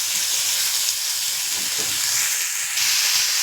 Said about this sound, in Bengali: তেলের উপর টমেটো দিলে টমেটোটা সহজেই নরম হয়ে যায়।